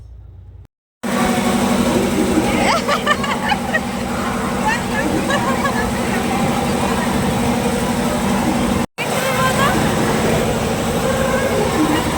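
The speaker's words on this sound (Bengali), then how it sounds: "তারপর আমি আর ঈশা দুজন মিলে চলে এসেছিলাম ট্রেনে চড়বো বলে।" A small amusement park toy train ride rumbles and hums steadily up close, its engine drone continuous apart from a brief dropout near the end.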